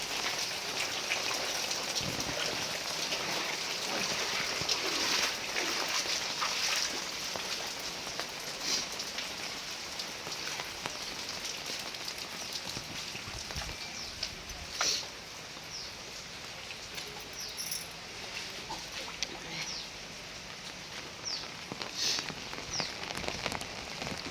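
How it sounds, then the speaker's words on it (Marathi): Heavy rain pours steadily on the streets of Nashik, a dense hiss of drops drumming on surfaces that continues without a break. "खूप पाऊस आहे. पावसाने असं गच्च भरलेलं आहे."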